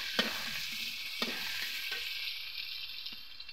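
Jackfruit seeds frying in oil with nigella seeds, a soft continuous sizzle heard close, broken by a few sharp spatula clicks against the pan; fairly quiet overall.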